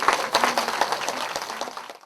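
Applause and cheering from a citizens' audience opening a community lecture academy, a dense burst of many hands clapping that carries on for about two seconds before stopping abruptly.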